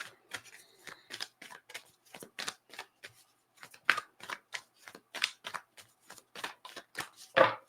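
Moonology oracle cards being shuffled, a steady run of short crisp riffling bursts, close and fairly quiet, with no voices.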